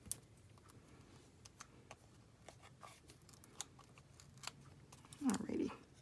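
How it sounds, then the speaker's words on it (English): Scissors trim a small paper piece for a handmade card, with light scattered snips and ticks close by and a louder cluster of cuts near the end. "I'm going to trim one of these so that I have a little one"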